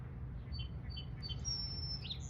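Birds outdoors on a sunny day chirp in faint, scattered high tweets over a low steady background rumble, with no talk.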